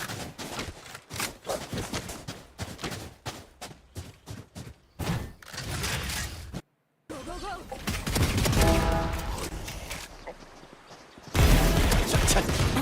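Guardian rifle shots in a Valorant esports match, a run of sharp single cracks in quick succession, then denser game noise with a commentator talking over it.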